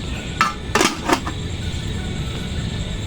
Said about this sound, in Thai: ปิดฝาเลยครับ